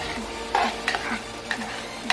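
Masala for Ghati-style chicken sukka gets stirred in a pan, with repeated scraping strokes of a spoon at an even rhythm over a low background sizzle.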